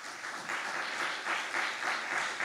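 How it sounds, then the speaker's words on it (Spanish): A church congregation breaks into a steady round of applause, many hands clapping together in a dense, sustained wash from a short distance. "¿Por qué no le da un fuerte aplauso al Señor esta mañana?"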